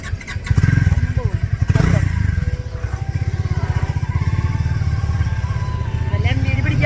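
A motorcycle engine starts and settles into a steady, close idle with a fast pulsing rhythm, ready for a short ride for two, while people talk over it.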